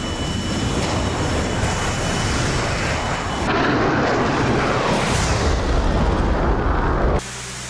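A missile launching from an SU-27 jet in a flight combat game roars loud and steady over a constant jet engine drone, with a surge of whooshing noise midway before cutting off abruptly near the end.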